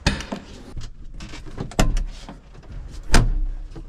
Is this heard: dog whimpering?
no